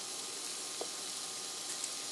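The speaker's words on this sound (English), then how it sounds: "We're just browning this turkey sausage" Turkey sausage browning in a hot pan gives a steady, even sizzle that runs the whole time, with no talk and only a tiny pop now and then.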